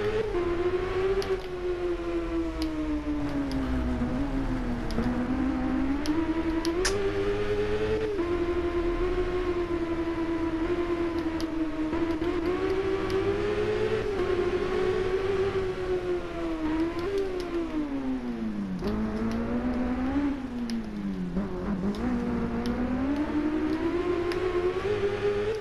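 Continuous high-revving superbike engines race in an endurance event in the video game RIDE, a loud sustained whine that rises and falls with gear shifts and corners throughout, with no talk over it.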